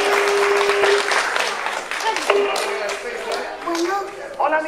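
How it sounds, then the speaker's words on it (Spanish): Guests at a quinceañera clap for a father and his daughter, a moderate burst of applause from a modest crowd mixed with talk and a voice calling out near the end. "¡Fuerte este aplauso!"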